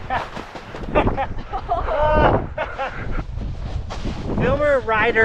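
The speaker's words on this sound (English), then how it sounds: "If you can't tell, it's super windy today" Strong gusting wind buffets the microphone on a ski slope, a steady low roar running throughout beneath people talking close by.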